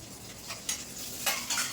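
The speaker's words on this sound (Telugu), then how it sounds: "పోపు వేగింది" Dried red chilli pieces and curry leaves fry in a tempering pan, a soft steady sizzle with a few brief stirring scrapes, heard close with no voices.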